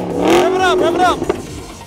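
An exotic sports car at a car meet revs twice in quick succession. The engine pitch climbs sharply, dips, then climbs again in a loud, close burst before fading.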